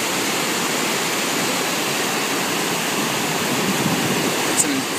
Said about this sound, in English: It's an insane amount of water that's flowing through.